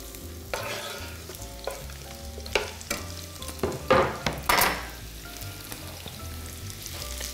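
Onion fries in a little oil in a pan, a close, steady sizzle broken by several louder scraping bursts as it is stirred.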